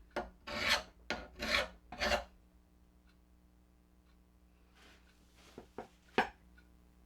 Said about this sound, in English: if the sharpened edge of your mower blade goes through a contour like this, you may need a half round file